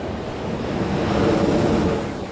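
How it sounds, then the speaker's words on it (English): Ocean waves wash steadily on the shore in Maui, Hawaii, a loud continuous surf roar with wind buffeting the microphone, swelling slightly toward the middle. "Feel that in the rhythm of the ocean"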